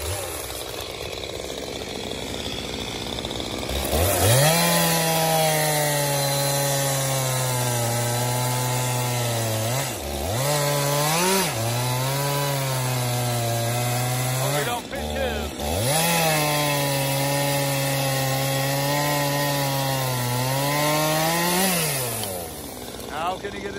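A chainsaw cuts cherry and oak logs into outdoor boiler firewood, its engine holding a loud, steady drone that dips and revs back up several times between cuts.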